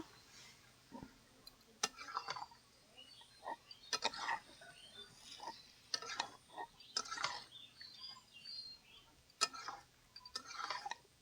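Metal spoon scraping and clinking in a cooking pan as boiled potatoes and long beans are mixed into a simmering curry gravy, quiet irregular knocks and scrapes at close range with a low background hum.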